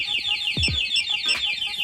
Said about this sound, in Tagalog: Mag-a-alarm na yung motor.